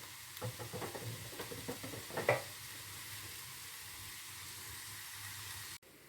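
A vegetable filling with kefta and roasted peppers fries in a pan, giving off a soft, steady sizzle, with a few light stirring scrapes and taps early on, then a constant quiet hiss.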